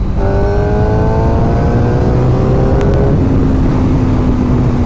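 Engine of a black 2016 Suzuki GSX-R 750 sportbike while riding on a highway, a loud steady drone with rising and falling revving tones over heavy wind rush, continuous and close throughout.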